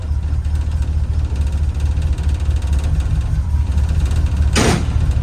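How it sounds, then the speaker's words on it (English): A 1979 Grumman Kurbmaster P30 step van sits idling on choke to warm up, its engine a steady low rumble close by, with a brief higher whoosh near the end. "Just let it warm up on the choke."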